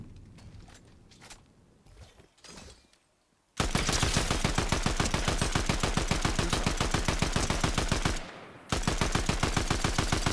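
Rapid automatic gunfire in Fortnite Season 2, a loud, dense stream of rattling shots that runs for several seconds, breaks off briefly and resumes, after a quieter stretch of footsteps and scattered game sounds.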